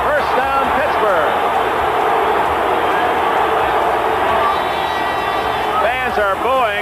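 A football stadium crowd booing an Oilers player after a late hit on a tackle, a loud sustained roar of disapproval filling the whole stretch, with a commentator's voice talking over it.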